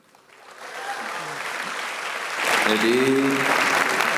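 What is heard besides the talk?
audience applause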